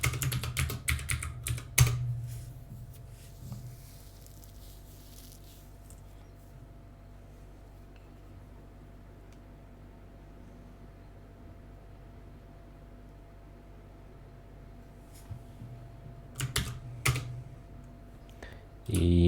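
Someone types code on a computer keyboard while building a compiler, with quick bursts of clicking keys at the start and end and near silence between.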